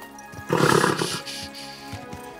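A horse in the video game Kingdom Come: Deliverance II lets out one short, loud neigh that quickly fades, leaving faint low background noise and a few soft thuds.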